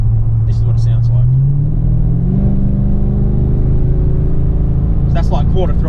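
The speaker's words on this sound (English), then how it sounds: "I'll just accelerate slowly from 80 kilometers per hour up to 110. This is what it sounds like." A Holden Caprice with a 3-inch exhaust accelerates gently from 80 to 110 km/h, its deep engine rumble rising smoothly in pitch, steady and close, with brief speech at the start and end.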